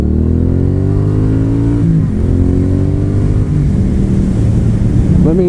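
A 2019 Triumph Street Twin motorcycle engine revs up close and holds a steady high pitch, with a strong harmonic drone throughout, a brief dip near the two-second mark and a rising rev at the end.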